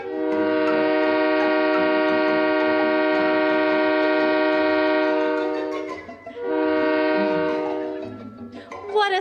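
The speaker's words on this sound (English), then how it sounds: "How about a pull of that whistle" A loud, sustained train whistle blows twice, a long steady blast, a short break, then another blast that trails off.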